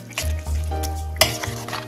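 Noodle kabab mixture being stirred and mixed in a bowl, a short run of soft scraping and clinking of the utensil against the dish, close and alone.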